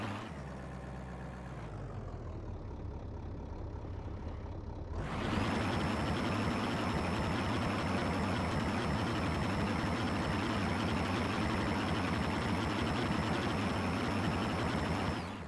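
A modified car engine runs steadily at first, then surges sharply in a loud sustained roar that holds steady, with a high whine riding on top throughout.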